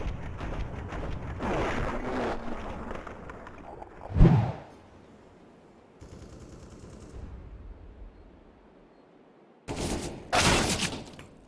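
Pistol shots from a CZ sidearm in the tactical shooter game Valorant: a sharp close report near the middle, then a burst of two or three loud shots near the end, with quieter game ambience between.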